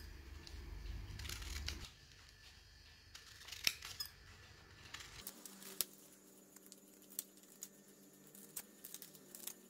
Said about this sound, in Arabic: بعد ما قطعت الكاغيط على هذا الشكل هكذا الورق